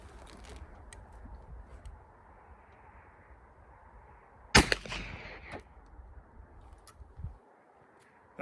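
A single sharp gunshot during a yard accuracy test of a handload, loud and close, followed by a short decaying rumble over a quiet outdoor background.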